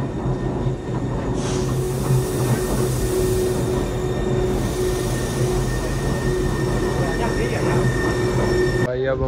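A train rolls along steadily on rails near Munich in Germany, with a continuous low rumble, faint wheel squeal and a steady whine throughout, ending in an abrupt clunk.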